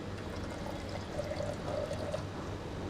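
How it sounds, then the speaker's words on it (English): Water pours out of a laboratory gel tray after a DNA or protein electrophoresis gel is washed, a soft steady trickling splash lasting a few seconds, faint and heard alone. "I will just pour out the water."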